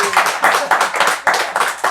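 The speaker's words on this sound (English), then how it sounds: "let's give Joe a round of applause" A small audience at a local indie music showcase claps for a musician, close and loud, individual hand claps clearly distinct in a short uneven burst.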